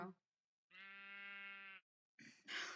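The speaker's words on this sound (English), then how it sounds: "I just heard a sheep." A sheep bleats once, a sustained, loud, clear call of about a second, preceded and followed by brief bursts of other sound with silence between.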